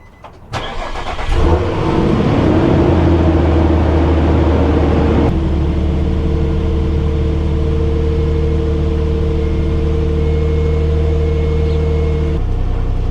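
A Nissan Frontier pickup truck engine cranks briefly, then catches and settles into a steady, close idle that runs for about ten seconds before cutting off; no talking.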